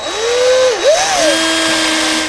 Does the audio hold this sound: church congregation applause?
no